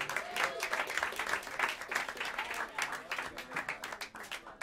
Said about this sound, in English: Keep your hands together and give a warm round of applause for great Willie Jones III on the drums.